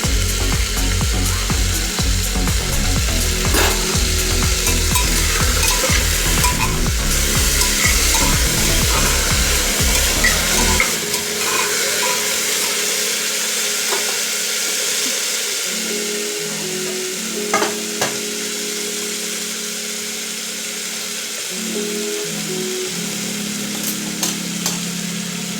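Cut potatoes and tomato fry and get stirred in a pan at home, with a loud, dense sizzle and scraping through the first part before it settles into a softer, steady fry with occasional clinks.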